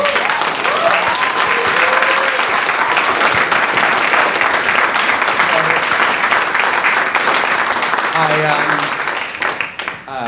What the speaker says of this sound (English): So please give these artists a round of applause.